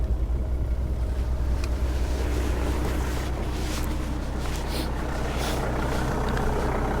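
A Mercedes ML engine idles nearby with a dense, continuous clattering rumble, loud and unbroken throughout, with no voices over it.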